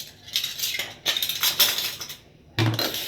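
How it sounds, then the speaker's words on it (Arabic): Metal kitchen spoons are set back into their places, giving several close bursts of clattering, clinking cutlery separated by short pauses, with no voices. "نبتدي بقى نبص المعالق مكانها، كل معالق مكانها"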